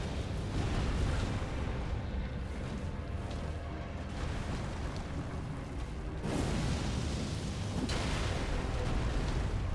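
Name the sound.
explosion spell in the video game Elden Ring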